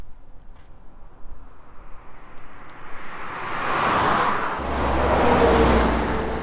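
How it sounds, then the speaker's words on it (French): A car approaches on a road in Argentina, a wind-like rush of tyre and engine noise rising out of quiet and growing louder and nearer over the last few seconds. "Il y a une autre voiture qui arrive"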